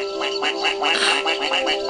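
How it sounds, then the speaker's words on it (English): Ducks quack in the video game Panic!, a rapid run of nasal, raspy calls repeating steadily over a steady background hum, fairly close and clear. "Oh, it's ducks! Duck hunt!"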